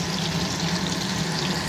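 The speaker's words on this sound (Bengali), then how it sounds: "তো এখানে রুই মাছগুলো ভাজার জন্য বসিয়ে দিয়েছি।" Rohu fish pieces frying in oil in a pan, giving a steady, dense sizzle that holds even and close throughout the short stretch with no voices.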